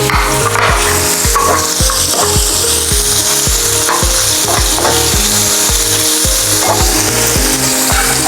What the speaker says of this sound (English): now is a perfect time to add in the pork, the fat. So it will render